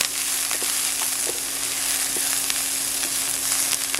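Cauliflower sizzling in an oil-filled pan as it is stirred, a steady bright frying hiss with intermittent scraping clicks from the stirring, close and continuous, no voices.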